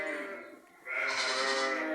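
Sheep and ewes with newborn lambs bleat in a steady, overlapping chorus nearby inside a barn, with a brief dip before the calls swell again and continue loudly.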